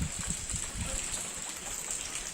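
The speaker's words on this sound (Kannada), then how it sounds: "ಹೊರಗಡೆಯಿಂದ ಬರ್ತಾ ಇದೆ, ತುಂಬ್ಕೊಂಡು ಹರಿತಾ ಇದೆ" Floodwater from record heavy rain flows into a house in Wilson Garden, Bengaluru, a steady rushing, gushing wash with a faint hiss over it, moderately close.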